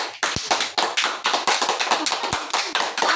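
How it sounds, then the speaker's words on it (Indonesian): Pupils in a classroom clap their hands together in a quick, irregular burst, many sharp close slaps overlapping in a lively ragged rhythm with no talk. "Tepuk tangan."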